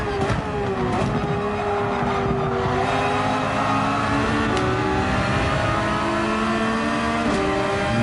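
A race car engine at Watkins Glen in Gran Turismo 7 drones steadily, its pitch stepping down through downshifts before climbing again, loud and close from start to finish.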